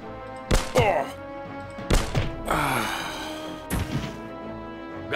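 Three sharp, punchy gunshots from Jagged Alliance 2: Unfinished Business, spaced a second or two apart, each followed by a brief ringing tail.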